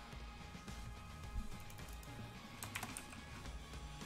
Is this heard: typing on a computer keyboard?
yes